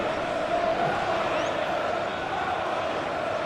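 A stadium crowd in the eFootball PES 2021 football game keeps up a loud, constant roar and murmur throughout, a busy wall of noise from the stands before a final between England and Spain.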